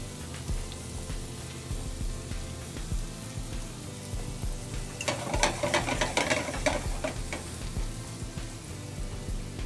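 Ribeye steak and broccoli sizzle in a hot pan with a steady crackle that swells into a denser burst of spitting about midway, heard close and alone without voices.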